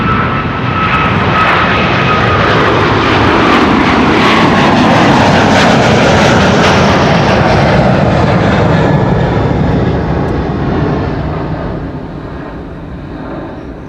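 A Cathay Pacific Airbus A350-1000 departs Amsterdam Schiphol runway 24 at dawn, its engines a loud, sustained roar that builds slightly, then fades toward the end as it climbs away.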